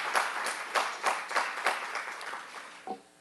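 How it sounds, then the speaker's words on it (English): A round of applause at a book launch, an audience clapping in a brief burst that swells and fades over a few seconds, with no talk over it. "Can we have a round of applause for the wonderful treatment we got from them?"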